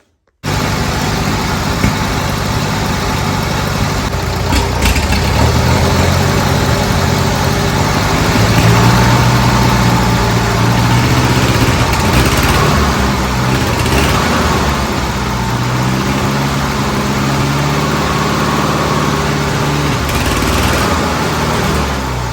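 Engine of an old Bobcat 610 skid steer loader starting up and revving, a loud continuous rough mechanical drone with rising and falling pitch near the microphone, no talking.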